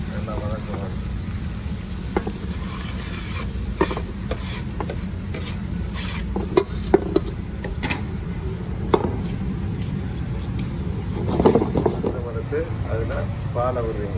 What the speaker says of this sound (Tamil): வெங்காயம் உள்ளி ரோஸ்மேரின் திமியான் எல்லாம் போட்டு நல்லா வளர்க்குவோம்.